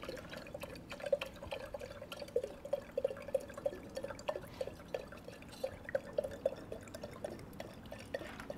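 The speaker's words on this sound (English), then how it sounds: "Longest pour in the history of water pouring." Thin stream of water trickling and dripping into a coffee brewer, with small rhythmic splashes over a quiet background, no talking.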